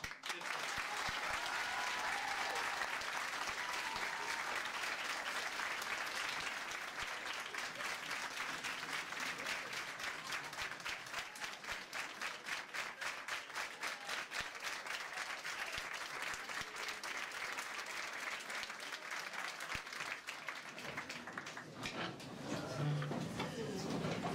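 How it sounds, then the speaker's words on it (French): An audience applauds warmly for Bernard Andris at a Molenbeek gathering. Dense, steady clapping from many hands goes on for over twenty seconds at an even level, then thins slightly near the end. "il faut l'applaudir très très fort, c'est monsieur Bernard Andris"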